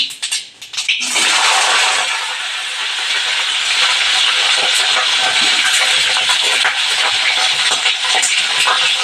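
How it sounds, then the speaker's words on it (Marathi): Cumin seeds hit hot oil in a pan for a mixed vegetable dish with drumstick pods, bursting into a loud, steady sizzling hiss with fine crackling that carries on without talk. "थोडंसं जिरं टाकणार आहे नंतर हे तडतडलं की"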